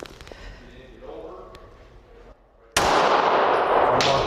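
Gunfire during active-shooter gun training for teachers: a loud, sustained burst of broadband noise erupts partway through after quieter talk and handling sounds, staying strong to the end.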